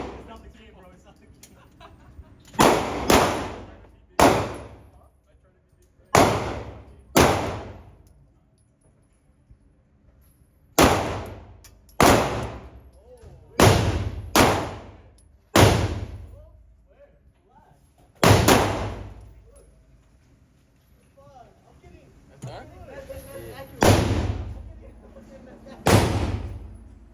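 Gunshots at an indoor shooting range ring out in sharp, loud single reports, some in quick pairs and triplets with short echoing decays and pauses between strings, while people talk in the background.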